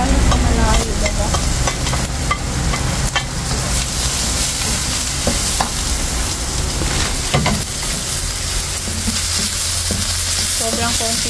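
Onion frying in a small amount of cooking oil for an ampalaya dish, a loud continuous sizzle with scraping stirs throughout, no talk.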